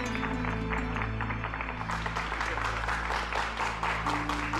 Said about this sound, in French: Monsieur Rogelio Rivas, pour qui je demande un tonnerre d'applaudissements.